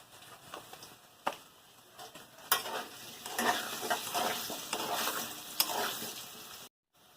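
Salted potatoes frying in leftover oil in a pan are stirred with a utensil, giving irregular scrapes and taps over a moderate sizzle that swells in the middle, then stops suddenly near the end.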